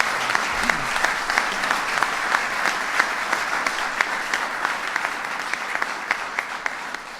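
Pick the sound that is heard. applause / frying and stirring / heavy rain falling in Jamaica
applause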